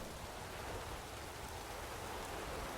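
Steady rain falls in the video game The Witcher 3: Wild Hunt, a soft, even hiss of drops that stays constant and fairly faint throughout, with no voices.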